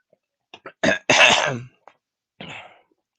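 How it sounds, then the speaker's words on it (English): Someone clears their throat close up: a few short raspy hacks, one longer harsh rasp, then a final cough-like clearing after a pause. "Let me just clear my throat real quick."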